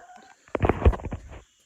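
American gamefowl hens, a leaper cross kept on a homestead, giving a short close burst of clucking and throaty calls lasting under a second, with quiet before and after.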